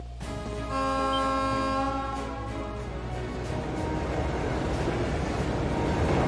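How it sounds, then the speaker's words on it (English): A heavy freight train's horn sounds in the Trails of Cold Steel video game as it arrives from Leahard, a loud sustained multi-tone blast that swells and holds for several seconds before giving way to rumbling train noise. "It's a freight train from Leahard?"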